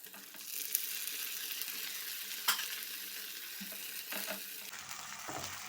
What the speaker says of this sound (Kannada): ಇದು ಕೂಡ ಹಾಗೆ ಹಸಿ ಸ್ಮೆಲ್ ಹೋಗುವವರೆಗೂ ನಾವು ಫ್ರೈ ಮಾಡ್ಕೊಳ್ಬೇಕು